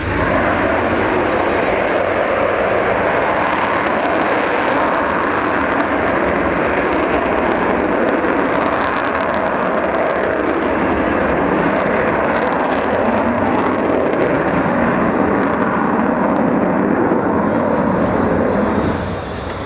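An Avro Vulcan jet bomber thunders past at the 2011 Waddington air display, a loud continuous roar of jet engines powering up, swelling with harsh rushing bursts and staying overwhelming throughout, with a commentator talking over it.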